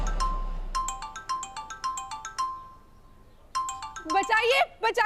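A phone ringtone plays a bright, repeating electronic melody in short, evenly spaced pulses, pauses briefly, then resumes before a voice cuts in.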